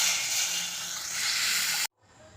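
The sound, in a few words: tamarind water poured into pan with fried green chillies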